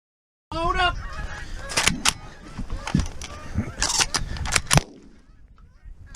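Geese honk during a goose hunt on Prince Edward Island, with nasal calls at the start, then several loud sharp shotgun blasts in a row, and people talking over the gunfire.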